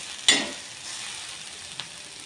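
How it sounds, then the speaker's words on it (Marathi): Onion, tomato and garlic frying in a pan for a gravy give a steady broadband sizzle, with a sharp stirring clink near the start and a faint second tap later; no voices. "बघा तर आपला कांदा टोमॅटो लसूण मस्त छान लालसर होत आहे।"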